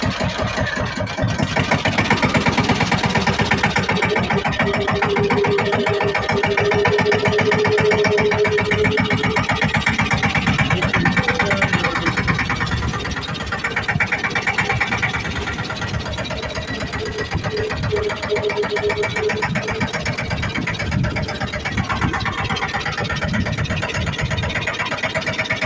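A tractor engine turns over and settles into a loud, steady rumbling idle that runs on throughout, close by, with a slight dip in level midway.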